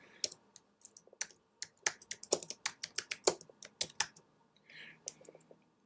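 Fingers type on a computer keyboard in a quick, uneven run of sharp clicks, fairly close and quiet, with short pauses between small bursts of keystrokes.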